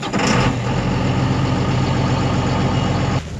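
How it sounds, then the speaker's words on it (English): A farm tractor engine cranks over and catches, then settles into a steady, loud, low idle to warm up before spring discing in an alfalfa field. "Just gonna start the tractor quick and get her warmed up."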